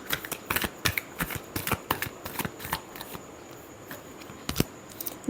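Tarot cards being shuffled by hand in a final shuffle, a series of crisp riffling snaps and flicks in irregular bursts, close and clear with no talking.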